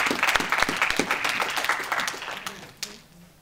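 A church congregation applauds during a French-language sermon, with dense, steady hand clapping up close that gradually thins and fades out toward the end.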